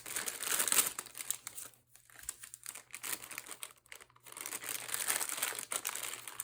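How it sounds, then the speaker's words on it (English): Crackly paper packaging around a Stamperia Whispering Woods paper collection is handled and opened up close, giving steady loud crinkling and rustling with brief quieter gaps. "Apologize for all the crackly paper noise."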